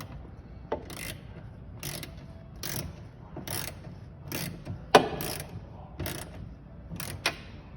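Tail light bolts on a Nissan Sentra being snugged down into a plastic housing with a ratchet: repeated short bursts of clicking, evenly spaced, close and moderately loud, with a couple of sharper metallic clicks between them.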